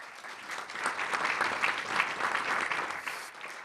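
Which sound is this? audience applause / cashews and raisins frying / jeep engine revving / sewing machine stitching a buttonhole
audience applause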